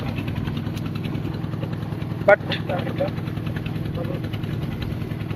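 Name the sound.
motorboat engine on a boat in Halti Beel, Natore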